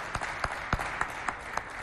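An audience at a Chadian fashion show applauds with a brief spell of clapping, scattered claps standing out at a regular pace against a steady crowd murmur.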